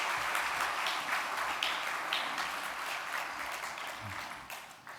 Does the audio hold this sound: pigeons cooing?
no